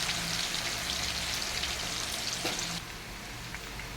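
Chopped onion fries in hot oil in a pan for ichore chingri, giving a dense, steady sizzle close up that eases slightly partway through.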